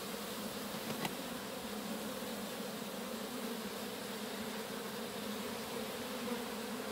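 Honeybees at a hive being moved from a nucleus box into a full hive drone in a steady, faint, continuous buzz with one brief click partway through.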